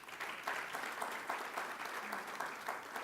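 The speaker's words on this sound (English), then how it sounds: "So one round of applause to yourselves." An audience at an innovation talk in India applauds steadily, a dense wash of many hands clapping at even loudness for a few seconds with no speech.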